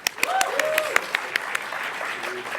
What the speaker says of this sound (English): I'd love to give a round of applause to the organizers and the sponsors